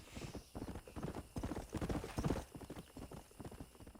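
Stallion's hooves clip-clop in a steady, close trotting rhythm in the Western video game Red Dead Redemption, joined by a neigh partway through, loud and clear with no talk over it.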